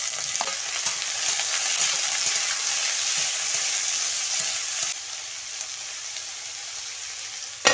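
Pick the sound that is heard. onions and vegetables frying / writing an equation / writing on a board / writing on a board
onions and vegetables frying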